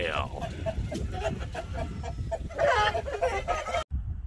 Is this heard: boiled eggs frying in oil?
no